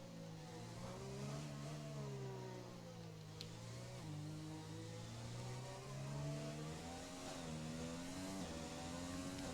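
Formula One race car engine from the game F1 2020 at a Chinese Grand Prix circuit, a steady high whine that rises and falls through gear changes as the car drives continuously, loud and alone.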